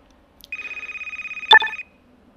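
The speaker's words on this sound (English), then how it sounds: "Do you hear the phone ringing?" A telephone rings in the Car Mechanic Simulator 2015 video game, a steady trilling electronic bell lasting about a second and a half, loud and alone with a brief click near its end.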